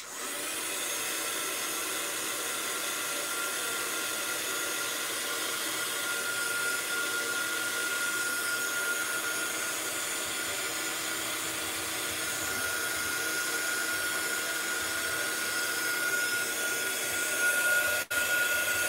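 A hair dryer runs steadily and loudly the whole time while drying freshly applied art supplies, a constant whooshing hum with no talking.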